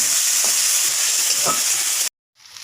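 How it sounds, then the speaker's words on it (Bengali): Small-cut potatoes hit hot oil with cumin and crushed garlic, giving a loud, steady sizzling hiss that cuts off abruptly near the end, then briefly resumes more faintly. "আলুগুলো ছোটো ছোটো করে কেটে নিয়েছি। এখন তেলের মধ্যে দিয়ে দিচ্ছি। এখন একটু ভাজা ভাজা করে নেবো ওকে।"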